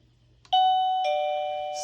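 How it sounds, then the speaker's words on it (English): An OhmKat video doorbell plays its standard chime: two clean electronic ding-dong tones, the second ringing out and slowly fading, close and clear with nothing else around. "Standard doorbell chime. It's nice and clean."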